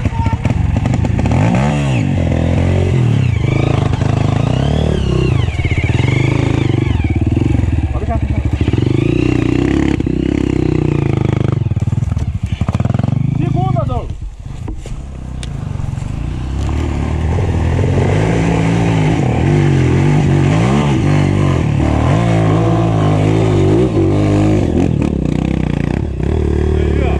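A Yamaha XTZ 300 motorcycle engine revs hard and repeatedly on a dirt trail, pitch climbing and falling as it strains, with clattering and scraping and brief voices in between.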